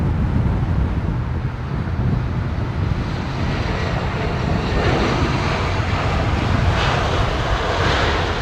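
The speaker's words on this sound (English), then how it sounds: "the start up from the Air Canada jet" An Air Canada jet engine starts up at London Heathrow Airport in southwest winds, a steady, loud broadband roar that holds throughout with gusty wind buffeting the microphone.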